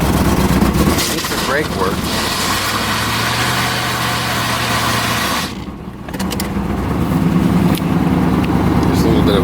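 A 1988 Firebird Trans Am GTA with a 5.7-liter 350 V8 idles with a steady low rumble throughout, dipping briefly midway, while someone talks over it nearby.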